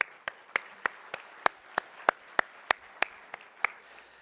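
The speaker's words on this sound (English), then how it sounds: "Another big round of applause" Slow, evenly spaced claps at a conference summit's opening session, about three per second, crisp but fairly faint, with a quiet room in the background.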